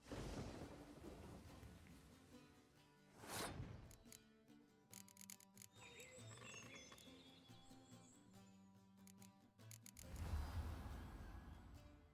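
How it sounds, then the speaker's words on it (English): Torrential rain pours steadily in the Witcher 3 video game, with deep thunder rumbling twice and some faint birdlike calls in the mix. "Torrential rain."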